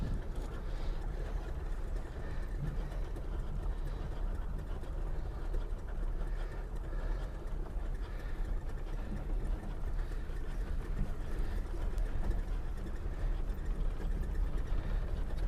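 A 1956 Buick Century driving slowly, heard from inside as a steady low engine rumble with road and wind noise, continuous and fairly close, with no talking.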